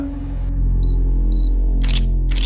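Two short, bright camera shutter clicks sound close, separated by about half a second, over a steady low hum, with louder bursts of noise arriving near the end.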